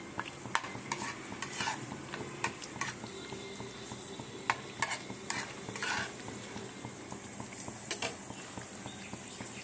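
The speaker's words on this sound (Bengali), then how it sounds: "কাজুটা যেই ভাজা হয়ে এসছে হাফ হয়ে এসছে দেখো রং ধরে গেছে" Cashews frying in oil with a soft sizzle under repeated clinks and scrapes of a spoon stirring the pan, close and fairly quiet.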